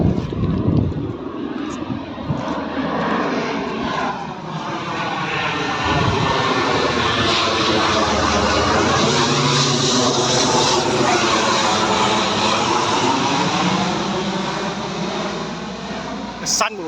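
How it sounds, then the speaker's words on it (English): Army planes fly over a house building site in Phetchabun, Thailand, a long swelling engine drone that rises and fades overhead, with someone talking over it. "might be the same planes coming because my wife said they're army planes"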